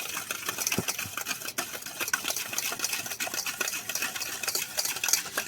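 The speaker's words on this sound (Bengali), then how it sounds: "আবারও ভালো করে মিক্সড করে নেব" Flour, salt and baking powder being mixed together in a bowl for crisp biscuits, a steady, close scraping and stirring texture with no talking.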